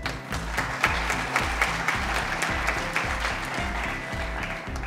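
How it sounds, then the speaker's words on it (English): An audience at a college research day event claps for the chief guest, steady dense applause that holds at an even level throughout. "So please give a clap."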